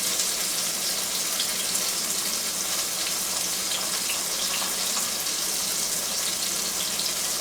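Pork chops browning in a pan over high heat give a steady, loud hiss and sizzle that runs unbroken throughout, with no talk.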